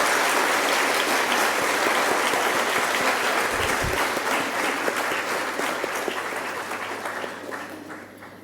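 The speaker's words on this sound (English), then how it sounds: "Please, a huge round of applause." Audience applause fills a hall at a university inauguration ceremony, a steady dense clapping from a large crowd that holds throughout and slowly fades toward the end, with no talk over it.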